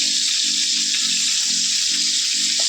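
Rohu fish frying in a wok that was not yet fully hot, a steady broadband sizzle with a faint pulsing low hum beneath, continuous and close, no voices.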